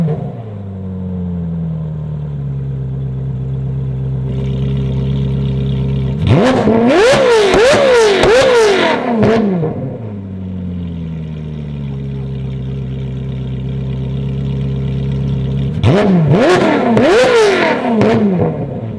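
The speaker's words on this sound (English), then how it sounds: "we're really pleased with this IPE exhaust. It sounds freaking awesome" Ferrari F430 with an IPE full exhaust, heard up close in two bursts of sharp, high-pitched revving that climb and fall, each followed by a steady idle.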